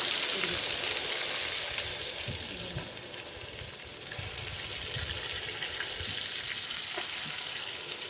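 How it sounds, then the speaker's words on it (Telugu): Fish pieces deep frying in hot oil: a dense, continuous crackling sizzle, close and steady, with faint pops and no voices. "డీప్ ఫ్రై అండి చేపలో."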